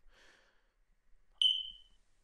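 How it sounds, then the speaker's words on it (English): A smoke detector in a bathroom gives a single short high-pitched chirp after a faint breath, the rest near silent. "you gotta change your fucking fire system or your smoke detector, bro"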